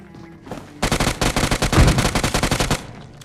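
UMP submachine gun fire in the mobile battle royale game BGMI: a loud, rapid automatic burst of closely spaced shots lasting about two seconds, preceded by faint game ambience.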